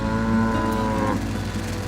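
Cattle on a farm give a loud, close, drawn-out moo that rises and then fades, heard alone with no talking.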